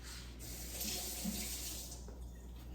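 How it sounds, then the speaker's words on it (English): Tap water runs steadily into a sink while a spoon is rinsed under it, a soft continuous splashing heard close up with no voices. "wash my spoon off"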